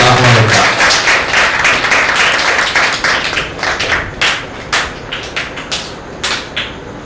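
Audience clapping to welcome guests at a church birthday celebration, dense loud applause that thins into scattered, irregular claps toward the end.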